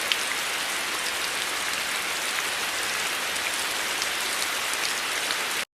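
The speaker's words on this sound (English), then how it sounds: "It was still raining heavily" Heavy rain pours steadily, a dense, even patter of drops on surfaces at constant loudness, with no voices, stopping abruptly at the end.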